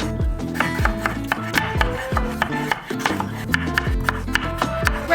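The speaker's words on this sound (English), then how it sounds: "So these I'm actually chopping up pretty small" A knife chops pickles into small pieces on a board, a quick, steady series of close, crisp taps that keeps an even rhythm throughout.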